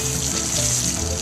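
Clean water splashes and streams steadily as Daddy Pig rinses Peppa and George after lifting them from the pool in the cartoon, a continuous close, loud wash with no pauses.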